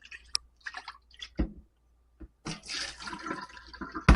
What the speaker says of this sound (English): So I'm going to pour that out and rinse it